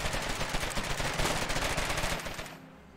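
Rapid automatic gunfire rattles through a video game battle, dense and loud bursts of shots that fade out near the end.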